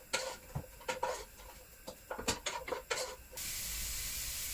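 Onions just starting to cook in a pan, stirred with a wooden spoon: a series of scraping clatters, then a steady, even sizzling hiss that takes over at the end.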